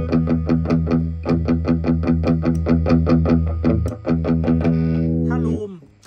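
Electric guitar run through a Shark Overdrive pedal on its Loom setting gives crunchy, distorted strummed chords in a fast, steady chugging rhythm, loud and upfront, ending in a ringing decay.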